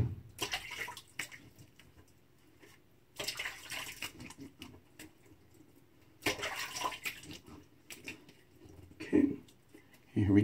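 Water splashes and trickles from a running tap in short bursts while rinsing during a wet shave with a Muhle R41 safety razor, separated by quiet pauses.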